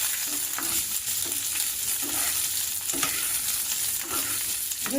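Onion frying in tempering oil with ginger and garlic for tomato bath, a steady sizzle with periodic stirring scrapes, close and fairly loud with no talking.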